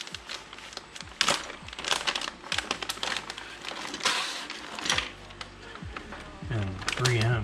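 Plastic bag crinkles and rustles in loud, irregular bursts while GoPro mounts and 3M adhesive pieces are handled, with sharp crackles and pauses throughout and a soft voice underneath.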